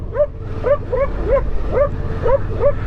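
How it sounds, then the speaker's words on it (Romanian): A dog yips and whines in short, high, repeated cries, about six in a row, over a low steady rumble of wind or movement from a motorcycle ride. "Mă mănâncă și câinii."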